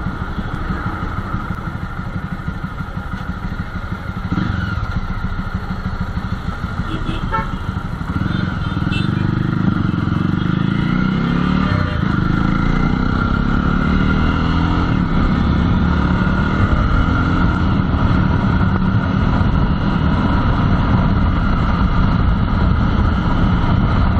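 A Jawa Classic motorcycle on a road test ride, its engine droning steadily and building in pitch as it accelerates, heavy wind buffeting the microphone throughout.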